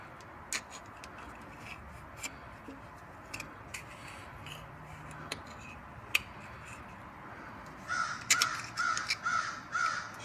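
A crow caws several times in a quick series near the end, fairly close, after a stretch of scattered clicks and light clatter from work on a Triumph TR6 engine.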